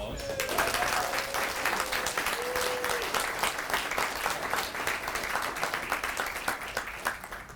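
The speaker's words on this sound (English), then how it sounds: "Please give our volunteers one final round of applause." Warm audience applause for volunteers at an Army volunteer of the year ceremony, a steady wash of many hands clapping that holds evenly for several seconds, with a faint voice near the start.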